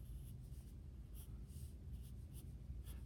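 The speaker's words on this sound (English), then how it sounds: "I'm going to draw it nice and large on this tan paper." Chalk pastel scraping across tan paper while an apple is sketched, a soft continuous scratchy rubbing with brief strokes, close and quiet, no talking.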